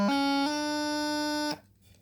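A heavy D throw played on a bagpipe practice chanter, rising from low A: a brief burst of grace notes into a steady, reedy sustained note held for about a second and a half before stopping cleanly.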